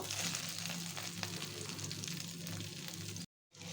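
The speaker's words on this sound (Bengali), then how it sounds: "এরকম করে একটু ধরে রেখেছি যাতে মাছের যে শির আছে শিরটা যাতে ভালোভাবে ভাজা হয়" Tilapia fish fries in oil, a fairly quiet steady crackling sizzle with light popping that cuts off abruptly near the end.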